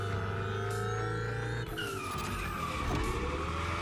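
A Hoonitron drift car in The Crew Motorfest screams with a steady high engine whine, shifting pitch midway as it slides, with continuous loud motor noise and tire skid throughout, no voices.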